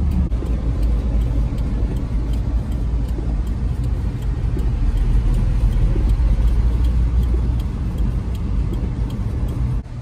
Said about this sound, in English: Turns out the old flatbed truck is actually really good in the snow.